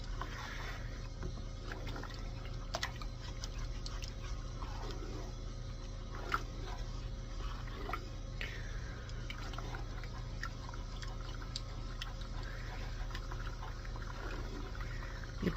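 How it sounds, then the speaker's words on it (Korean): A spoon works through thick acorn jelly mixture in a pot over high heat, giving soft irregular ticks, scrapes and wet gloopy sounds over a steady low burner hum, quiet and close. "잘 저어주세요."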